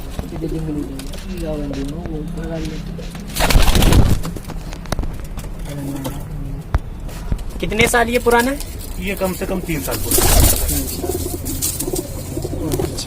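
A home-flown cross-bred pigeon with one injured eye, kept in a Lucknow pigeon loft, gives repeated low, throaty coos in short rolling bursts, close by, while people talk over and between them.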